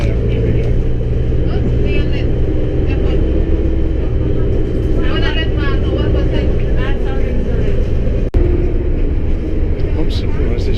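A bus in Vietnam grinds along stuck in first gear, its engine holding a loud, steady low rumble while faint voices murmur now and then under the noise.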